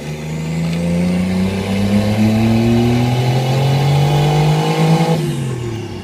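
A 1JZ-engined Toyota Cressida revs hard and loud up toward its rev limiter, pitch climbing steadily for several seconds before dropping off sharply, with no voices over it.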